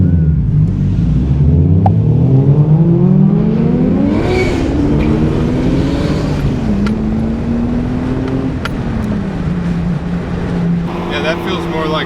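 A Nissan Skyline R34 GT-R accelerates hard, heard from inside the car, its engine note climbing steadily and stepping down briefly at gear changes before pulling on with a deep, loud rumble.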